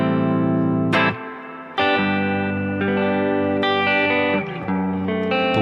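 Medium-gain electric guitar patch with reverb on a BOSS GT-1000, loud chords and single notes struck in a loose sequence, each ringing out with a lush reverberant tail.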